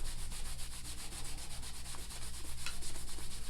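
A microfiber cloth buffs wax into a small wooden board from a dollar store, a soft, steady rubbing swish in quick back-and-forth strokes, faint and close, with no talking.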